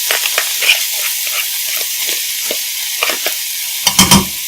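Minced, mashed tofu cooks in a hot pan, a loud close sizzle broken by repeated scraping stirs, with a cluster of sharper clatters near the end and no speech.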